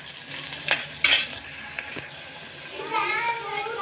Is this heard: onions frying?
yes